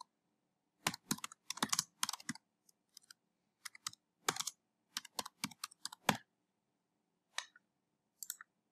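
Close computer keyboard typing as an address is entered, in quick bursts of crisp key clicks separated by short pauses, ending with a few isolated taps.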